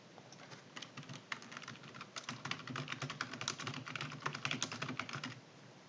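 Steady, rapid keystrokes on a computer keyboard, with close, crisp clicks arriving in quick irregular bursts and no talking.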